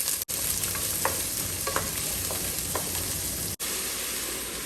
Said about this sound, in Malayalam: സ്റ്റ്യൂവിന് ആവശ്യമായിട്ടുള്ള പൊട്ടറ്റോ ഒന്ന് നമുക്ക് വഴറ്റി വെക്കാം.